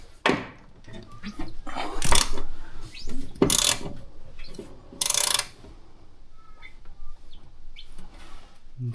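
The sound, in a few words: Ford Focus engine being turned clockwise by hand with a ratchet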